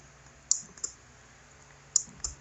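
A motor control box makes faint, sharp relay clicks in two close pairs about a second and a half apart, over a low steady hum in a quiet room.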